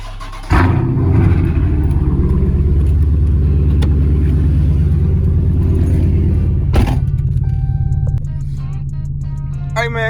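Car engine already warm and idling after starting, a steady low rumble that runs throughout, with a sharp burst near the start and another brief surge later while someone talks over it.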